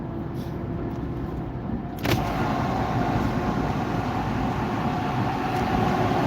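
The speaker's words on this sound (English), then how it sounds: "You can hear that truck." A semi truck drives alongside a car on a busy street, making a loud, steady broadband road rumble that swells slightly partway through and continues without a break.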